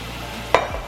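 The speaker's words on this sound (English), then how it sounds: "Then we're to put the rest of the cooked potatoes in there" Cooked potatoes dropped into a saucepan of simmering olive oil, a single soft thud and brief splat over a low steady background, no talk.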